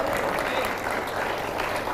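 An audience claps at a live anniversary gathering, a brief burst of steady applause from the crowd, with a voice speaking over it.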